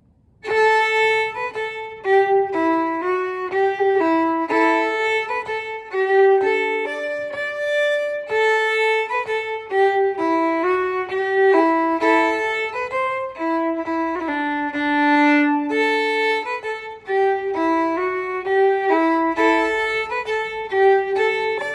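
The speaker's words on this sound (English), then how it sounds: "I'll play through it, the part A, just to start off with." Part A of the first Ballydesmond Polka, a traditional Irish tune, played solo on a bright melodic instrument as a lively bouncing run of quick clear notes, repeated phrases with short breaths between them.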